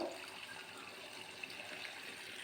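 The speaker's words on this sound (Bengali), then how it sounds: "দিয়ে দিলাম জল" Water poured into a pan of paneer curry cooked without onion or garlic, a steady, even rush of liquid lasting throughout, fairly soft and continuous with no voices.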